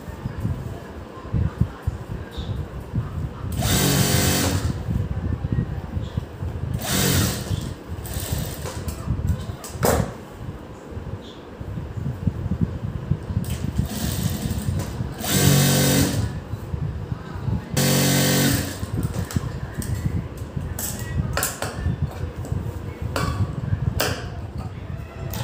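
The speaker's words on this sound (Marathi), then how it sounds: "आता आपण या साईडला सुद्धा व्यवस्थित असं कवर शिलाई प्रथम द्यायची." A sewing machine stitches a blouse in a series of rapid motorized runs with pauses between them, heard close and fairly loud, while someone talks between and over the stitching.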